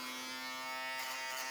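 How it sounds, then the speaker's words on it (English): An electric foil shaver runs over beard stubble, giving a faint, steady motor buzz with a constant pitch and no pauses. "So what I tend to do is I grab my foil shaver"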